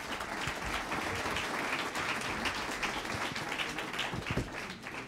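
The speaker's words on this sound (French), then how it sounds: "On peut applaudir, je pense" An audience at an educational robotics conference round table gives a round of applause, a fairly quiet but steady patter of many hands that continues throughout.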